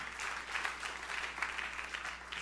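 Steady applause from a church congregation during a sermon, a dense patter of clapping hands sustained throughout, moderately distant with no voices over it.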